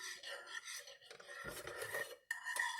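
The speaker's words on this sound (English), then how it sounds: "I didn't think about that scraping noise" A pot being scraped and dragged across an electric stovetop burner while making homemade coffee creamer, a quiet rasping metal-on-metal grind in short uneven strokes.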